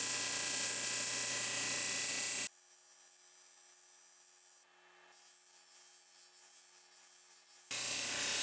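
Broadband whirring and grinding from a lapidary wheel polishing the sides of a lapis lazuli stone, heard at the start and end, with a long quieter stretch between them that has only a faint low hum, and no voices.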